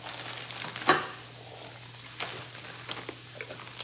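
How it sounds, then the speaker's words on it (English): Rice sizzles steadily in a hot pan, a close, continuous hiss with crackles and one sharper pop, with no voices. "Now, you hear that sizzle?"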